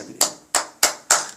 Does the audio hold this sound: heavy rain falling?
no